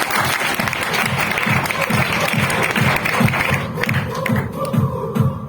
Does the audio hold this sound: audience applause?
yes